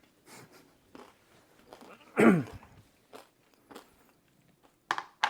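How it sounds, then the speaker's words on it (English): A sharp crunchy bite into a chip, followed by a few quieter crunching chews with pauses between, close up and otherwise quiet. "This is a very crunchy chip."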